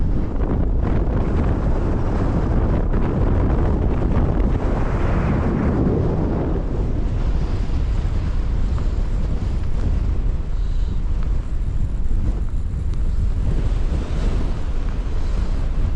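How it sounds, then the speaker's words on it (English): Strong wind, around thirty miles an hour, buffets the microphone on an open hillside hike in the Scottish Borders, a loud continuous roaring rumble that swells and eases without pause, with no voices. "It's 30 mile an hour. Oh, hey, it's cool in that wind chill."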